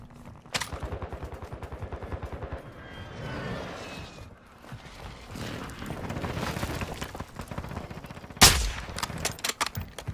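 Rapid automatic gunfire in a Call of Duty Warzone 2 match, with bursts of shots and a sharp nearby blast toward the end, amid busy game sounds.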